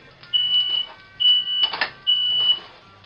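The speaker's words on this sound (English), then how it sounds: "Smoke detector." A smoke alarm chirps three times in a steady rhythm while ramen is cooked, high and piercing, with faint movement and clatter in between.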